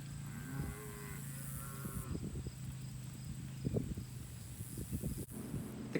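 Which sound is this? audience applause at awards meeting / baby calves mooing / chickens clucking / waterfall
baby calves mooing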